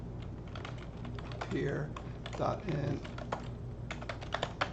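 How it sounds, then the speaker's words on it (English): Computer keyboard typing with quick, uneven keystroke bursts, steady and close, interrupted by brief speech from a man in the middle. "I'm typing over here"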